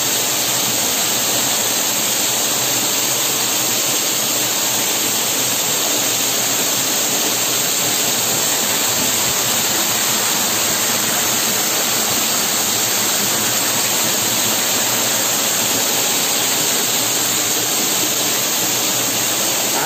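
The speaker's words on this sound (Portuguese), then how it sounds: "Aqui é a cachoeira de Pichar" Cachoeira de Pichar, a waterfall in an ecological park, roars loud and constant as a dense, unbroken rush of falling water, heard up close with no talking.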